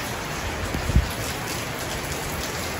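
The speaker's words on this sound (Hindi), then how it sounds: "बारिश हो रखी है बाहर, बहुत तेज़ बारिश हो रही है।" Heavy rain pours steadily outdoors during a bad-weather spell, a dense continuous hiss broken by one brief low thump near the start, with no voices.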